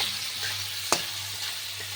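Ginger paste and tomatoes fry in oil with a continuous close sizzle, broken by a single sharp spatula scrape partway through.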